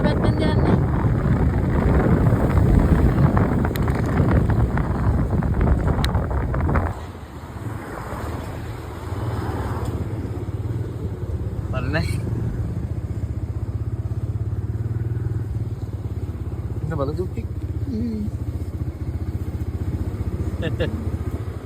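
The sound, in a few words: motorcycle ride in the rain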